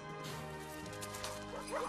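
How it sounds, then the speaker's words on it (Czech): Cartoon dogs barking from The Simpsons Christmas episode, a burst of yips and bow-wows over a busy musical score, with whimpering rising near the end. "si vypusťte vánoční psi."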